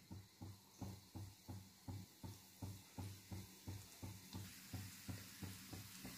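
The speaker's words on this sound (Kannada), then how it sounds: "ಸೊ ಲೋ ಫ್ಲೇಮಲ್ಲೇ ನಾವು ಹುರ್ಕೋಬೇಕು" Gulab jamun balls fry in oil over a low flame, making a soft, steady sizzle with a regular pulsing bubbling rhythm, faint and without any talk.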